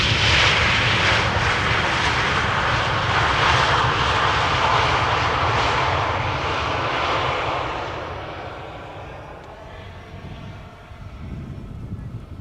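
An Embraer 190 jet arriving from Bremen at Amsterdam Schiphol, heading for the center runway: a loud, steady roar of engines that fades gradually as the aircraft passes, with some wind buffeting on the microphone.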